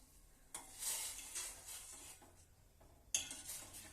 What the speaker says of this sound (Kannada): ನೋಡ್ರಿ ಕುದೀತಾ ಇದೆ